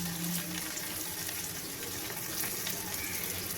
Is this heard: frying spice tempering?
yes